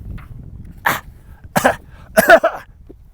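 A man coughs loudly three times, sharp separate bursts spaced about a second apart, close to the listener in an otherwise quiet space.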